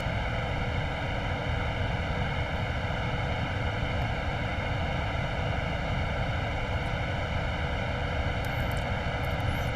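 Embraer Phenom business jet approaching runway 23 in a flight simulator game, its engine drone a steady, loud, unbroken roar with a faint high whine on top, no talking.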